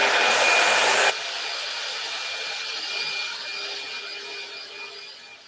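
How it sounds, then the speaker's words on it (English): A Fuji spray gun spraying finish through its nozzle, heard as a loud, close, steady hiss for about a second, followed by a quieter continuous hum of the turbine running on. "Hey, Mike, how about rotating that nozzle and showing them how the fan sprays vertically?"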